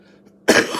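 A single harsh cough bursts out abruptly after a brief quiet moment, close and fairly loud.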